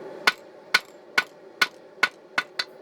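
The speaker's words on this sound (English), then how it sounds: "So as I hit it with a hammer, the hammer will create one side" Seven sharp, ringing hammer strikes on metal on an anvil while forging a blade, evenly spaced about half a second apart, close by with a bright metallic ring.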